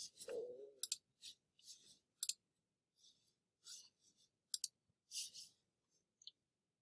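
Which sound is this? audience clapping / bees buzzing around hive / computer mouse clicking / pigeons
computer mouse clicking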